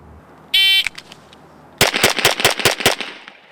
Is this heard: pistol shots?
yes